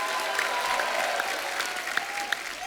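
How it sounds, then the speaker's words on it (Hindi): Studio audience applause welcoming a film director onto a comedy talk-show stage, a steady wash of clapping from a large crowd with a few sharper claps standing out, with no talk over it. "आप सबकी जोरदार तालियों के साथ प्लीज वेलकम डॉक्टर चंद्र प्रकाश द्विवेदी साहब"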